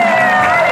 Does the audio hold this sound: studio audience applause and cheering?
yes